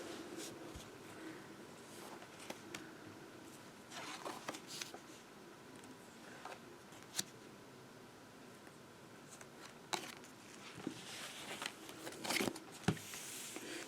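Tarot cards shuffled and drawn for a four-card spread, soft close riffles, flicks and slides of card stock, faint and intermittent with a few sharper snaps.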